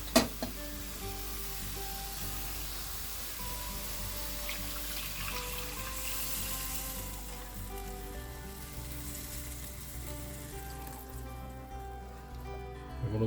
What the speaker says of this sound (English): We'll pour in all the chicken stock.